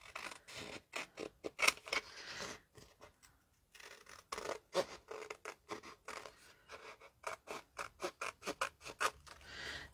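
Scissors snip paper dolls out of pages from an old Sears catalog, a close, steady run of short crisp cuts with brief pauses, no talking.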